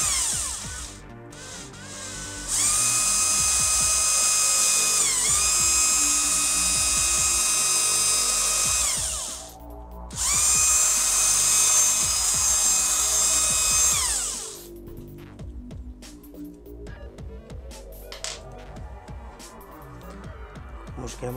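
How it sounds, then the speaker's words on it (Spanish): An electric drill with an 8 mm bit whines through plastic in two long, high-pitched bursts with a brief pause between, then winds down into scraping and handling noises. "Lo que vamos a hacer será coger el taladro con la broca del 8"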